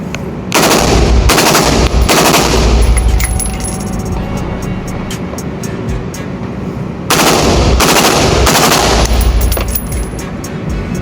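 Rifle fitted with a Magpul trigger fired in rapid single shots, loud close bursts of quick cracks in two volleys separated by a quieter stretch, with no voices.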